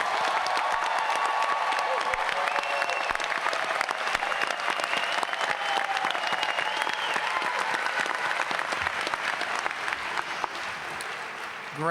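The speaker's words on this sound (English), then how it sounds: "Everyone, please join me in applauding American College of Education's graduating class of" A large audience at a college graduation ceremony applauds the graduating class, a broad, steady roar of clapping with light cheering that holds for about twelve seconds before easing slightly.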